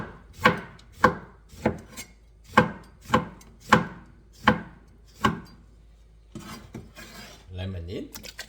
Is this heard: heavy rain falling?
no